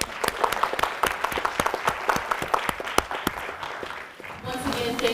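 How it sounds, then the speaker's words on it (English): Lecture-hall audience applauds faculty and staff, with a steady spray of individual hand claps, some sharp and close, tapering briefly before a voice begins near the end. "Can we all give them a hand clap?"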